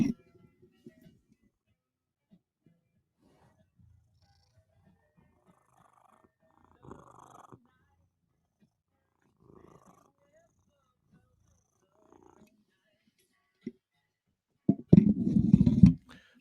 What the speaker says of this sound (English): That was my cat's purr.